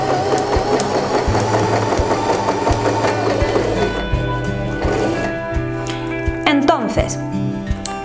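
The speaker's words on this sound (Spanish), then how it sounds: "Bajo el prensatelas y le doy al pedal para realizar el pespunte." A domestic sewing machine stitches with the pedal pressed, giving a fast steady mechanical whir and rattle of the needle, while a woman explains in Spanish over it.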